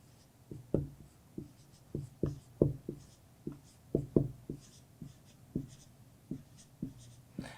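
A pen scratches out a word during a lesson, making a steady series of short, soft strokes and taps close by in an otherwise quiet room.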